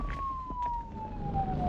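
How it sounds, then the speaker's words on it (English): A siren wails steadily in the distance, a single descending tone held under faint background noise. "At the same time, I heard police sirens outside."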